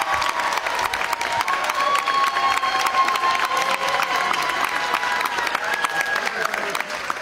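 A studio audience claps and cheers for a quiz team, a steady dense wash of applause that holds at full strength from start to finish, with some voices mixed in.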